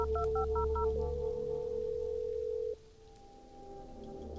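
A phone in the video game Blair Witch dials voicemail: a quick series of touch-tone beeps, then a long steady tone that stops sharply, followed by low ambient hum.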